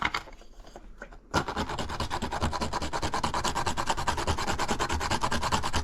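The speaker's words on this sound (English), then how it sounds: "Freshly grated nutmeg," Whole nutmeg rubbed against a nutmeg grater for a baked coconut custard: after a short quiet start, close, rapid, rhythmic rasping strokes repeat evenly.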